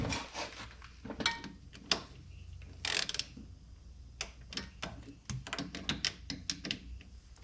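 A torque wrench tightens bolts during a Brute Performance diff locker upgrade, producing close, irregular ratcheting clicks and metallic clunks with brief pauses between pulls.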